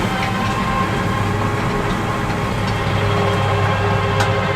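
Claas Arion 460 tractor straining as it pulls a rotary harrow across a field, a steady loud engine drone with heavy low rumble and rattling implement noise throughout, no voices.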